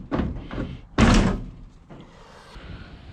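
The door of a 1970 Plymouth Cuda swings shut, and its striker catches with a heavy thunk. Lighter knocks come before and after the slam, all close and clear.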